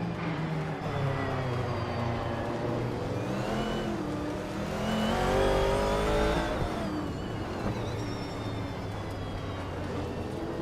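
A 1990 Mercedes 190E Evo 2 in a Retro DTM class race in a video game, engine droning and shifting pitch continuously with other cars audible around it, loud and steady without talk.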